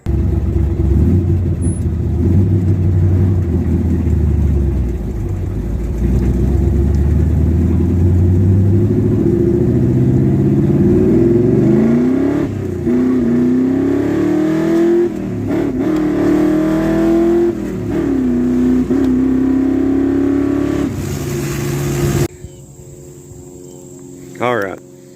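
A 1970 Chevrolet Chevelle Super Sport V8 idling with a deep, loud rumble, then revving up and down in several rising and falling sweeps before it cuts off, recorded up close with insects chirping outdoors behind it.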